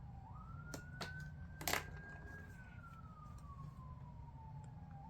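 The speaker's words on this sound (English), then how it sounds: "I'm sorry if you guys can hear those police sirens in the background" A police siren wails faintly in the distance, one long rising and slowly falling tone over a low background hum, with a couple of brief nearby clicks and rustles.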